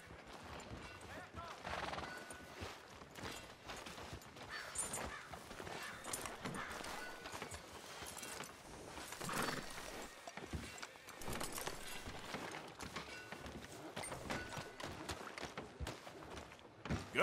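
Horse hooves clip-clopping in Red Dead Redemption 2: a steady rhythmic clatter of hooves on a town street under game ambience, with occasional neighs and voices speaking over it.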